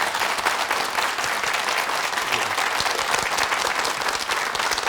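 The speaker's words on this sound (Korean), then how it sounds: "여러분 뜨거운 박수로 청해 듣겠습니다" Studio audience applause on a Korean morning talk show, a loud, dense burst of many hands clapping that continues evenly and close for the whole stretch.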